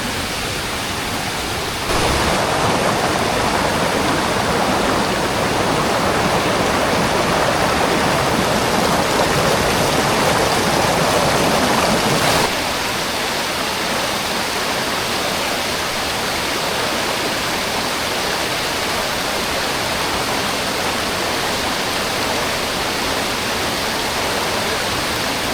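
Continuous roar of the waterfall at Dedu Gala, a dense, steady broadband rush of falling water that swells louder for several seconds early on, then settles back to a constant wash with no voices.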